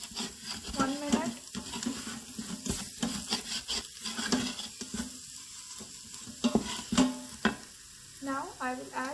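Spices, including salt and garam masala, frying in an Instant Pot for butter chicken, a crackling sizzle with scraping stirs that come and go while a person talks over it.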